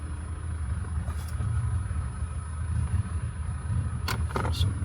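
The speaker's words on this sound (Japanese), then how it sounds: "はい、エンジンオン" A car engine runs at a steady low idle rumble throughout, close by, with a few brief clicks and clunks near the end.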